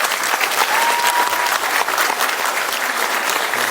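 Steady audience applause at a police academy graduation ceremony, a dense even patter of many hands clapping continuously with no pause.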